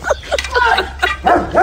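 A dog barks and yips in a quick run of sharp, close bursts, some whiny, in a short loud outburst.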